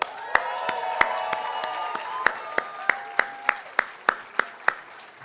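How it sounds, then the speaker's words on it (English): Applause and cheering from an audience at a leadership awards reception, a steady crowd roar with sharp regular claps standing out, fairly close and loud throughout, some murmured voices blended in. "Let's give them a big cheer."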